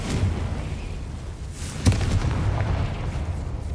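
Confringo explosion spell cast in Hogwarts Legacy: a continuous booming, rumbling blast with one sharp crack near the middle, loud and close, with no talking.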